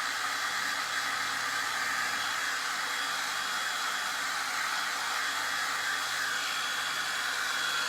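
A hair dryer blows steadily on a freshly cleaned patch of a surface where red paste was wiped away, a continuous close airy whoosh with no break and no voices.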